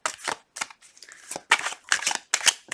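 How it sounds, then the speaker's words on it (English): Tarot cards are shuffled by hand in a run of quick riffling bursts, crisp and close, pausing briefly between shuffles with no talk. "2 more shuffles."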